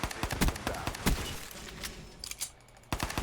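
Rapid bursts of video game gunfire from a first-person shooter, with close sharp shots in quick clusters and brief pauses, fairly loud and alone.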